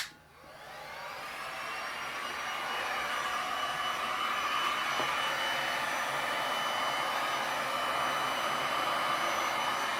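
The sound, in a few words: heat gun blowing on resin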